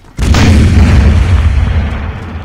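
A single loud cannon boom bursts out suddenly in a Roblox game, followed by a long low rumbling decay that fades slowly.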